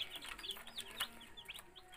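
Baby chicks peep in quick, high chirps, several overlapping at close range with soft background noise.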